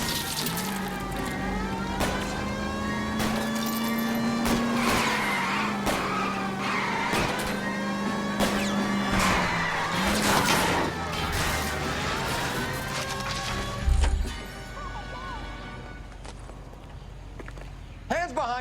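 Engine drone and tire noise from a car ramming a fleeing car in the L.A. Noire video game, with a steady motor tone, scattered clanks and thumps, and a heavy impact near the end.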